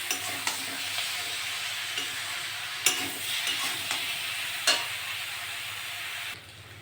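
Chopped tomatoes sizzle steadily in a hot pan, and a spatula scrapes and taps the metal now and then, giving a few sharp knocks over a continuous close frying hiss.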